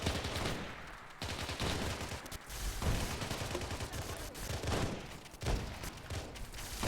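Pistol shots and other gunfire exchanged between NPC soldiers in the video game Arma 3, a dense run of cracks and bursts, loud and close, with some faint talk.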